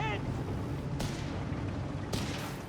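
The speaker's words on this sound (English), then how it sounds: "Grenades are being chucked in massive amounts" Grenade blasts and gunfire in the Company of Heroes 3 strategy game, in a Wehrmacht versus British forces match. Two sharp explosive bursts land about a second apart over a constant rumbling battle din, with no clear talk.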